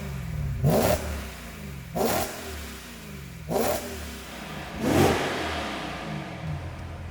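A supercharged BMW M3 E92 exhaust roars through four sharp revs, each a quick rising burst from idle that falls back to a steady burble, heard up close with no talking.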